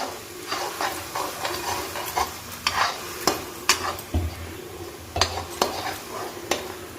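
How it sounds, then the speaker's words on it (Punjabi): Tadka being roasted and stirred in a pan for chole, a continuous frying sizzle broken by repeated sharp clinks and scrapes of a spoon against the metal, close and fairly loud. "ਅਸੀਂ ਇਹਨੂੰ ਚੰਗੀ ਤਰ੍ਹਾਂ ਭੁੰਨਾਂਗੇ ਆਪਣੇ ਤੜਕੇ ਨੂੰ ਜਦੋਂ ਤੱਕ ਬ੍ਰਾਊਨ ਨਹੀਂ ਹੁੰਦਾ"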